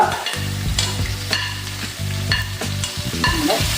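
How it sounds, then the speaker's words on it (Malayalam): Onion, ginger and curry leaves are sautéed in a pan for a Kerala-style curry, giving a loud, steady sizzle broken by scraping stirring strokes, close up and with no voices. "കറിവേപ്പില ഇതെല്ലാം കൂടെ ഒന്ന് ഞാൻ വഴറ്റിയെടുക്കാം കേട്ടോ"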